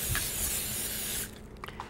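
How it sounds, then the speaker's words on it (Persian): Cooking spray hisses from a can into an oven bag for a Thanksgiving turkey, one sustained close spray lasting over a second before cutting off, followed by faint rustling. "من معمولا یه خورده با طعم اسپری میکنم که ترکیتون نچسبه"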